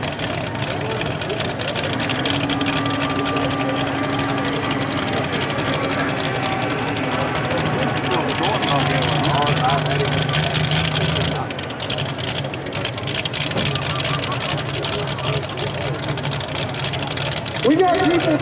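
Big block Chevy engine with carburetor-type injection on a mini rod tractor puller at a pull, a loud roaring drone that shifts pitch, with a commentator talking over it.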